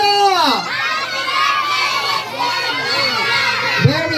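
A group of children at a birthday party shout together loudly, a sustained excited cheer with overlapping voices for several seconds.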